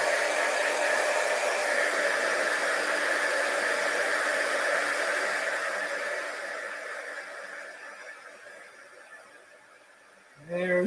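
Heat tool blowing hot air to melt icicle embossing powder for crafting, a steady close whooshing roar that fades slightly over time before a brief handling knock at the end.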